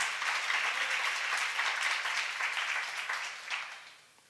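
A church seminar congregation applauds during a sermon: a steady wash of clapping from many people, moderately distant, holding evenly before fading out near the end.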